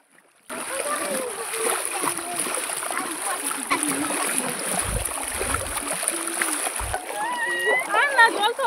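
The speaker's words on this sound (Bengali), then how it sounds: "আপনারাও দেখুন কীরকমভাবে আমরা সবাই যাই জলের মধ্যে হেঁটে হেঁটে।" Several people wade through shallow water outdoors, feet sloshing and splashing in an irregular rhythm beneath steady talking and background noise.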